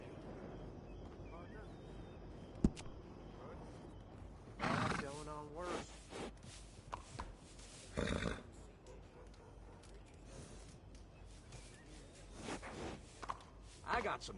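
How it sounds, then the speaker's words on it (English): A horse neighs in a video game with a long, clear whinny, joined by clip-clopping hooves and sharper later sounds against a faint background, with a voice talking in between. "Hey, good-looking horse there. I'm happy to stable that for you."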